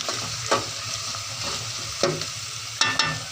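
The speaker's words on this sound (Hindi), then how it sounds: "और अब इसमें लहसुन का पेस्ट ऐड कर रही हूँ मैं। अब इसे अच्छी तरह से मिक्स कर लें।" Garlic paste is stirred into okra frying in a pan for bhindi gosht: a continuous oily sizzle broken by three distinct spoon scrapes and clatters, close and without talk.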